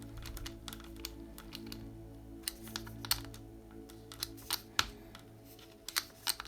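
Metal box wrench tightening the wheel nuts on a Tamiya BBX radio-controlled car on a BB-01 chassis: scattered sharp clicks and small taps, close and quiet, arriving irregularly over a steady low hum.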